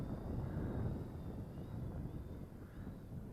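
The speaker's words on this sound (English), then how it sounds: "Oh, the wind's picking up even more right now" Wind gusts sweep over open desert during a test flight of an Eachine Pioneer 350 GPS camera drone, a soft, low, continuous rushing that is faint and distant, with a thin motor whine above it.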